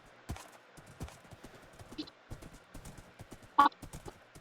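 Horse hooves clip-clop in an online multiplayer video game, with scattered soft hoof thuds and one brief whinny-like cry near the end, faint over quiet game ambience.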